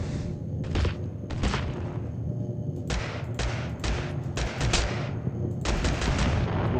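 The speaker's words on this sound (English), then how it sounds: "It's me shooting him." Gunfire in the battle royale game Totally Accurate Battlegrounds, loud bursts of repeated shots in several clusters over a steady background, close and dense, with no talking.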